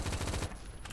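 A gun in the Phantom Forces video game fires a quick automatic burst of several close, loud shots, then cuts off into a brief ringing tail.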